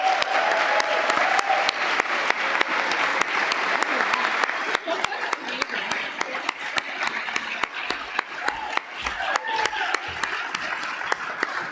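Audience at a youth recognition ceremony breaks into sustained applause, dense and loud throughout, with a voice briefly audible beneath the clapping near the start.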